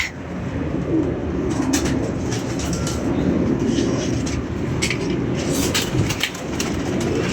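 Pigeons coo softly and repeatedly over a steady, loud background rumble, with occasional sharper chirps breaking through.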